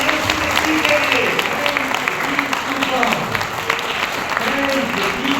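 Loud applause rises for Jesus Christ at a church worship gathering, sustained and crowd-wide, while a voice keeps talking over the clapping.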